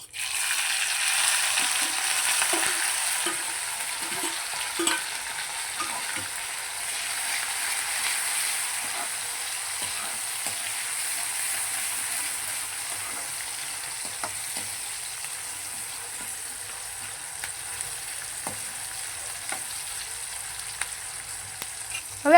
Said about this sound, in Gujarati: તેની માટે આપણે અહીંયા કઢાઈ ઉપર થોડું તેલ લઈ લીધું છે. તેમાં આપણે જીરું ઉમેરીશું, લીમડાના પાન, મરચાં અને ટમેટાં.